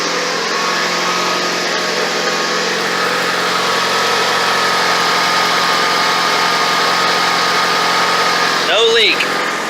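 A car engine idles steadily after a gasket repair, a close, even mid-pitched hum with light vibration running throughout, with a brief sweeping whine near the end.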